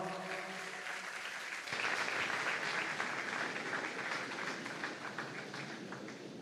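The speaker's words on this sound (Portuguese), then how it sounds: "vamos dar um aplauso" A church congregation at a Sunday morning service applauds, a steady wash of clapping from many hands that holds level for several seconds without fading.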